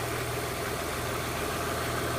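Stock 2001.5 Audi S4 B5 with its V6 idling steadily, a low continuous rumble with a faint vibration, no voices over it.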